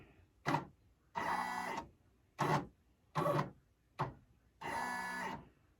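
An embroidery machine traces a design outline in separate motorized bursts, six whirring runs of varying length separated by short pauses, close and fairly quiet with no talking.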